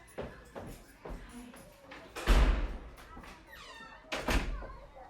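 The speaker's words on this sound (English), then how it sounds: "let me close the door." A door thumps shut with a heavy low thud, followed by a second bump and some shuffling nearby.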